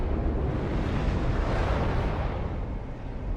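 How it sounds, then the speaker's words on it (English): An incoming shell salvo slams into a Duguay-Trouin cruiser in World of Warships, a dense sustained roar of blasts and rumbling explosions, loud and continuous, fading slightly at the end. "And here comes the salvo. Down we go."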